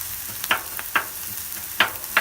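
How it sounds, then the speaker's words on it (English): Korean BBQ pork and scallions stir frying on a Blackstone 36-inch griddle, a soft steady sizzle punctuated by four sharp spatula scrapes and taps, close by with no talk. "We'll let this cook down, kind of a stir fry kind of thing"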